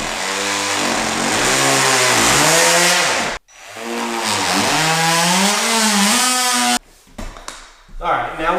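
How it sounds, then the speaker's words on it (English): An oscillating multi-tool cuts through shoe mold trim with a loud, steady buzzing whine that shifts in pitch. The tool runs in two long passes with a brief stop between them, then gives a few short bursts. "Now let's cut the shoe mold out with this oscillating tool."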